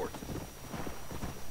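Horse hooves clip-clop in a steady walking rhythm in the western game Red Dead Redemption, close and moderately loud, with the soft thuds repeating under a faint game background.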